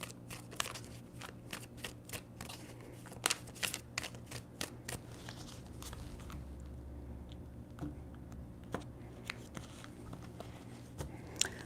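A deck of tarot cards being shuffled by hand, with repeated crisp riffling and slapping bursts in an irregular rhythm, close and fairly quiet, with no talking.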